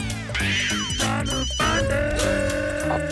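A phone rings with a warbling electronic tone, layered over busy background music and sound effects, fairly loud throughout.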